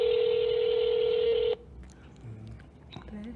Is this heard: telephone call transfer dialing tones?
yes